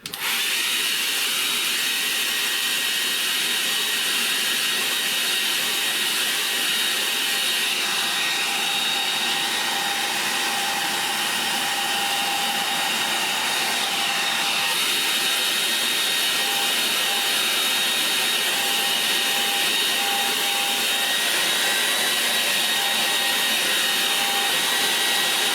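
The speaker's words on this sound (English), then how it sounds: "Okay, I'll dry that now." A hair dryer runs steadily at close range for the whole stretch, a loud continuous blowing whine used to dry acrylic paint on a canvas, with no talk over it.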